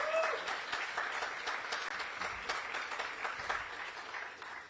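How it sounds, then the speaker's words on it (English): At the pre-race press conference for the 2024 Ironman World Championship in Kona, the audience gives a round of applause, a fairly faint, steady patter of many hands that tapers off gradually toward the end. "One more huge round of applause."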